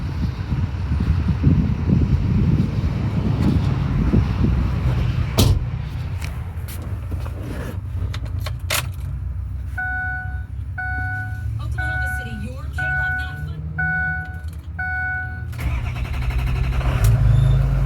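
A 2005 Ford F-350 King Ranch with a 6.0 diesel and about 162,000 miles idles with a low, steady rumble, while a repeating electronic chime sounds partway through and someone speaks over it.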